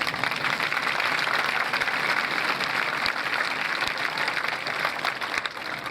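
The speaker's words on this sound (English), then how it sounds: "Why don't we give them all a round of applause?" Steady, dense applause from a large crowd at a high school graduation ceremony, sustained evenly throughout with no speech over it.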